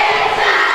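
A rowdy crowd at a varsity girls basketball game roars in a dense, loud, continuous wall of shouting and cheering, sustained without a break.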